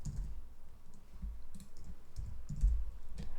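Soft computer mouse clicks and light keyboard typing while labels are added to tasks in Jira, a handful of quiet, close taps spread unevenly with no speech.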